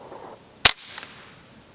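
A single sharp, dull crack of a suppressed .22 rifle fired into dirt stands out against quiet background, followed by a faint brief echo and a light scatter of sound.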